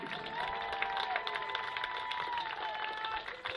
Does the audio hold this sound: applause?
yes